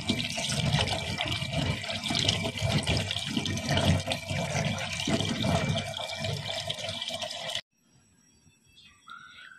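Soybean pods, trimmed at both ends, are rubbed together in water to scrub off their fuzz, making a continuous close swishing and sloshing for about seven seconds before it cuts to near quiet.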